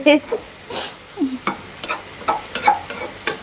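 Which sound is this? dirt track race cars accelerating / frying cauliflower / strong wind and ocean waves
frying cauliflower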